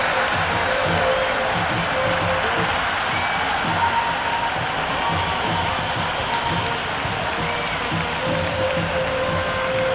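Crowd applause and cheering at a day-one India versus South Africa Test match in Cricket 26, a dense, steady roar of clapping that holds at full loudness without break.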